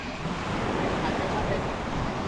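Strong wind and heavy waves at sea, heard from a kayak: a loud, steady roar of wind buffeting and surf wash with no break.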